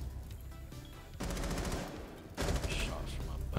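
Rapid gunfire in the tactical shooter Rainbow Six Siege: a short burst, then a loud sustained automatic volley, then another dense burst, with crackling shot tails and faint background game noise.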